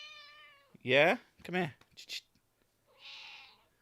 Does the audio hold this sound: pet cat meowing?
yes